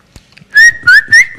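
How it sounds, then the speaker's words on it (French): A person whistles three short, clear rising notes in quick succession, loud and close, preceded by a faint click or two. "Moi, je sais siffler"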